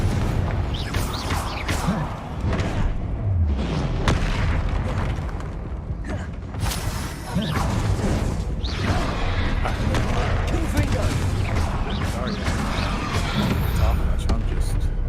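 Fiery Confringo blasts from combat in Hogwarts Legacy boom repeatedly through loud, constant battle noise, with someone talking over the action.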